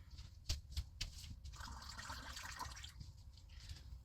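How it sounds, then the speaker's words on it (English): Water pours and trickles into a drinking glass, hot water followed by cold over a squeeze of lemon, with a few soft clinks at first, then a steady close-up splashing fill that eases toward the end. "half hot water, and then a squeeze of lemon, and then some cold water"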